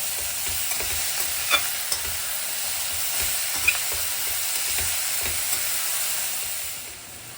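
Cucumber dal in a single pot being stirred after turmeric and salt go in, a steady hiss and bubbling with soft scraping strokes of the spoon, close and continuous with no talking.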